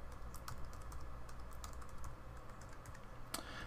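Password keystrokes typed on a computer keyboard, a steady run of close, quick clicks over about four seconds, with a sharper cluster of key hits near the end.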